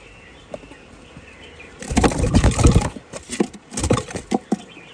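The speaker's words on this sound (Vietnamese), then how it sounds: "Chim chống mộc bên em thì đã hót rồi" Caged mộc songbirds chirp and flutter nearby, quiet at first, then bursts of busy, loud calls and rustling in quick irregular clusters.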